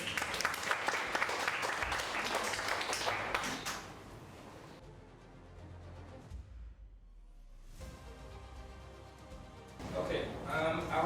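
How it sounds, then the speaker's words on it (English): Audience applause at a business masterclass, a burst of dense clapping that fades out after a few seconds, followed by quieter room sound and a later swell of noise. "So I think maybe we could give them a big round of applause"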